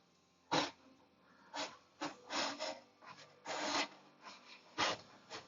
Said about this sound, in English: we're going to take this knife and we're going to go from the front corner because I want to cut off the front